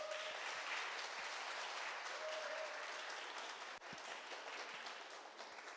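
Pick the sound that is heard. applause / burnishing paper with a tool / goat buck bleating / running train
applause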